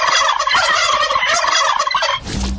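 A turkey gobbles in a rapid, loud, continuous burst used as a sound effect in a Greek radio advert about the Christmas turkey, ending with a brief lower-pitched tail.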